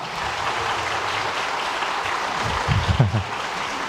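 A church congregation applauds an award winner during a Sunday service, a moderate wash of clapping that swells briefly near the end with a few louder, closer claps.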